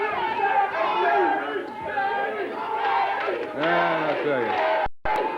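A wrestling crowd at a USWA event in Evansville chants and roars for Jerry Lawler, a loud rhythmic mass of voices with rising yells, while a commentator talks briefly over it.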